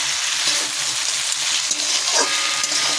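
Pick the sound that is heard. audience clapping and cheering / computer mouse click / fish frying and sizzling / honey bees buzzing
fish frying and sizzling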